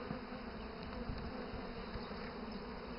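Bees at a hive that is being opened and moved, a steady close buzzing swarm filling the whole stretch without pause.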